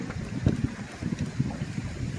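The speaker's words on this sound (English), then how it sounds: "It's a little windy." Gusty wind buffets the microphone while out on the water in a Hobie 360 kayak, a low rumbling roar with uneven surges and faint lapping beneath.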